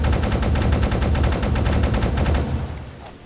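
Rapid repeated gunfire from a U-boat deck cannon in the submarine game UBOAT, a loud steady volley of sharp booms that fades out near the end.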